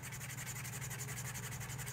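Sandpaper rubbing against the edge of two layers of leather, a quiet, rhythmic scratching of quick back-and-forth strokes, close and alone.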